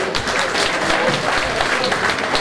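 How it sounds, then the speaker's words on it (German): Loud, dense audience applause for a band of musicians at a festival, continuous clapping close by with a few voices mixed in. "Ein Applaus für unsere Argenter Musikanten."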